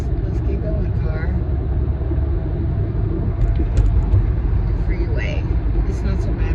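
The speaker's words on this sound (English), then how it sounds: "Oh, okay, we're going more than 30 miles an hour. Let's keep going, car." Interior of a car driving at over 30 miles an hour, a loud continuous low road rumble and engine drone with people talking over it.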